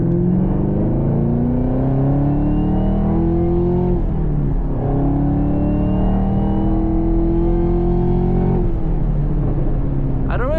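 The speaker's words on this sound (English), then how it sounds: "I don't really like to rev it out too much because the gears are long." A 2022 Camaro ZL1 engine climbs through long gears from inside the car, a loud steady drone that rises in pitch, drops at each shift and climbs again, with talk over it.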